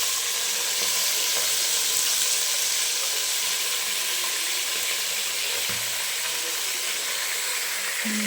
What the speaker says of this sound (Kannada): ಮಟನ್ ಹಾಕ್ಕೊಂಡು ಫ್ರೈ ಮಾಡ್ಕೋಬೇಕು.